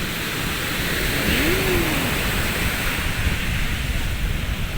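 Big six-foot waves rushing onto the shore and pulling back out, a steady loud roar of churning surf, close and unbroken.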